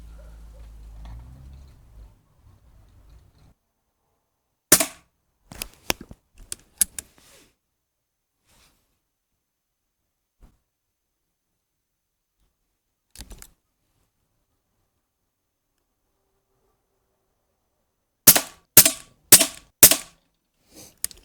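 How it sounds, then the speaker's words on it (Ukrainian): Snowpeak PP750 4.5mm PCP air rifle firing at paper targets outdoors on a windy day, sharp dry cracks in short clusters with long silent gaps between volleys, a final tight group of four near the end. "Роблю по 5 пострілів в кожну мішеньку"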